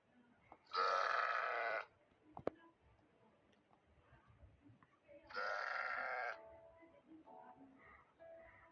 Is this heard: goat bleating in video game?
yes